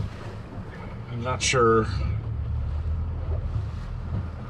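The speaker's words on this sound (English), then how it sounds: "Wind's coming at us." Steady wind roars across the microphone on a small fishing boat out on the open sea, with choppy waves underneath and a brief spoken phrase partway through.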